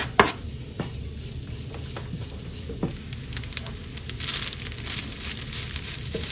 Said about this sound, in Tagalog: Sa pinaglutuan po ng tocino, dyan na rin po tayo magluluto ng sinangag